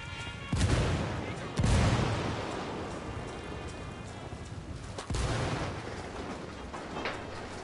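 In the Ghost Recon Wildlands video game, a frag grenade blast and gunfire come as a few loud, sharp bursts, the strongest in quick succession early and another a few seconds later, over a rumbling, noisy background.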